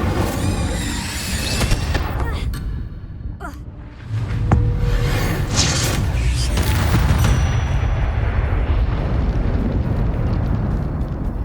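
Bombarda and Confringo spells detonate in Hogwarts Legacy, producing loud booming blasts and crackling debris, with a big eruption near the middle followed by sustained rumbling and scattered crashes.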